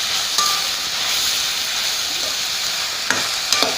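Chopped tomatoes sautéing in a pan for paneer gravy, a steady bright sizzle close up, with a few sharp scrapes of stirring near the end.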